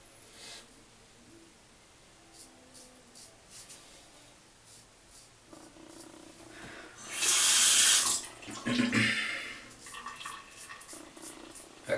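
A bathroom sink tap runs while a shaving brush is rinsed, quiet at first and then a loud gushing burst of water for a few seconds before it settles back to a softer trickle, alone without talk.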